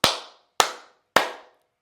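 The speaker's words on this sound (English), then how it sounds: "give yourself 3 big claps" Three big hand claps, each sharp and loud with a short fading ring, evenly spaced about half a second apart in an otherwise quiet room.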